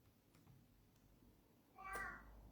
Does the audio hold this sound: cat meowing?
yes